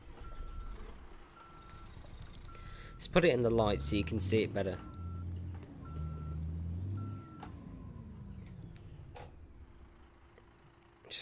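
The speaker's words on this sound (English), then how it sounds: "and back the truck up" A 2015 Volvo VM truck in Euro Truck Simulator 2 reverses with steady, evenly spaced beeps over a low engine rumble and a hiss of air, while someone talks over it.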